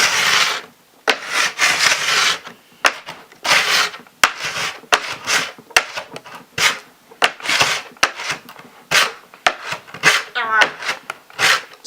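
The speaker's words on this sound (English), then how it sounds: "you're just going to scrape this whole thing, all of it off until once you've started scraping and no more wax comes off" Plastic scraper dragged along a waxed snowboard to strip the wax, a steady series of close, loud rasping strokes about one per second, with short pauses between them.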